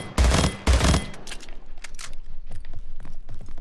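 Rapid-fire weapon bursts from the video game Splitgate, two loud dense volleys up front followed by lighter, scattered shots and clicks on a shooting range with practice dummies, no voices.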